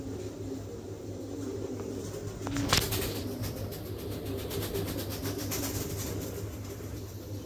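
Fancy show-quality pigeons cooing steadily through a pair's low murmuring, with a faint constant hum and a brief sharp click near the middle; no one speaks.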